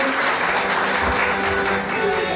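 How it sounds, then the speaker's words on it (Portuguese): Women participants at a sacred-feminine workshop receive applause, a dense, steady wash of clapping from a group that fills the whole moment. "Palmas para elas por me ajudarem nessa dinâmica."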